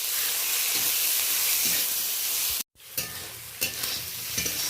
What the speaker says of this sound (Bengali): ছোটো সাইজের চিংড়ি মাছ পেঁয়াজের সাথে বেশ ভালো করে নাড়াচাড়া করে নিলাম।